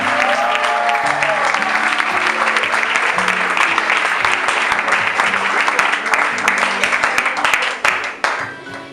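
A talk show audience applauds and cheers a guest being welcomed onstage, a dense sustained burst of clapping that fills the room and fades out near the end, with a few voices calling out.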